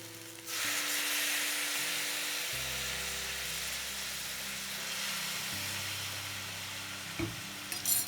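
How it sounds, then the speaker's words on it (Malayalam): Gobi manchurian gravy sizzles in a pan after soy sauce goes in. A steady close frying hiss runs under a low machine hum that shifts pitch, with a brief clatter near the end and no talk. "സോയാ സോസ് ഒഴിച്ചിട്ട് നല്ലോണം ഒന്ന് ഇളക്കണം."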